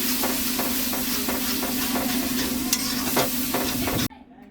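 150 grams of yogurt is stirred into an egg curry in a pan over a low flame, with close scraping and sizzling that cuts off abruptly near the end.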